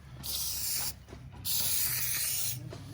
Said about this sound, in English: if the glue dries on the tip, you just go spray it